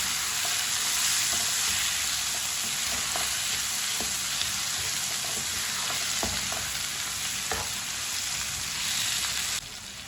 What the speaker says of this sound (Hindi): टमाटर डाल के मैंने 1 मिनट के लिए पका लिया है